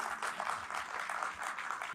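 An audience at a discourse on Saint Kabir claps to welcome a speaker, a soft, steady patter of many hands at moderate distance with no talk over it.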